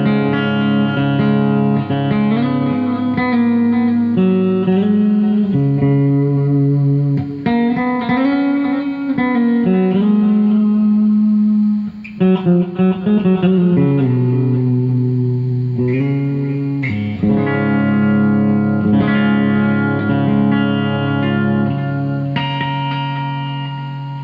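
A Firefly electric guitar played on its treble pickup through compression, delay and reverb rings out in sustained chords and melodic lines, loud and alone with echoing tails.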